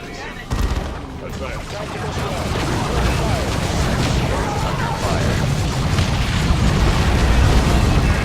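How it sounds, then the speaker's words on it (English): Battlefield combat from Dawn of War 2 Chaos Rising, with a thudding grenade blast and dense, rumbling gunfire and explosions that build and stay loud throughout. "see if we can't throw a grenade in there just to soften them up a little bit"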